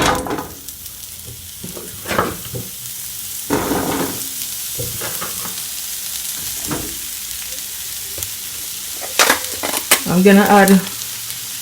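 Zucchini and onion sauté in olive oil in a pot, a steady close sizzle with stirring scrapes and clatter throughout, and a voice speaks briefly at the start.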